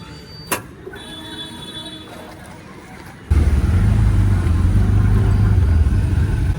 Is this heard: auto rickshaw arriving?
yes